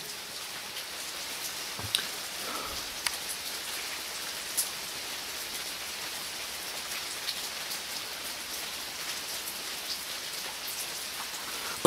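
Heavy rain falls steadily on a surface, a dense continuous hiss with a few sharper drops, and no thunder standing out.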